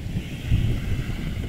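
Cold wind blowing at an Italian seaside, buffeting the microphone with a steady low rumble and gusts that swell midway, with no voices.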